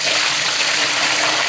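Water gushes steadily and loudly into a pot of rice and biryani masala for chicken mandi biryani, a continuous broad splashing pour with no pauses.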